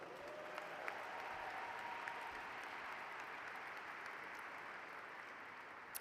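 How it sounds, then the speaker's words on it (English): Audience at a national diversity awards ceremony applauding: steady, dense clapping from a large crowd sustained throughout at even volume, filling the hall without voices on top. "Give yourselves a round of applause"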